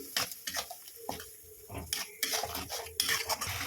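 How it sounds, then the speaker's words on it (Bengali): Spice paste with eel, cumin, turmeric and salt is stir-fried in a pan, heard as repeated close scraping and clinking of a metal spoon against the pan over a soft sizzle, with no voices. "এবার আমি সবটা দিয়ে মশলাটা ভালো করে কষিয়ে নিই।"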